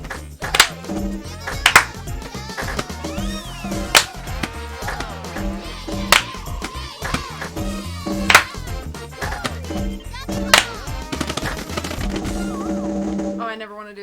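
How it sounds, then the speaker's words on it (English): Sharp hand claps on the bongo controller in Donkey Konga, rhythmic bursts of claps and drum hits keeping time with upbeat game music, with voices chattering and reacting over them. "I hate the clapping."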